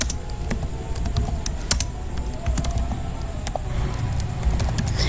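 Someone types a command-line instruction on a computer keyboard, producing loud, steady, rapid key clicks with a few sharper taps, up close and with no talking.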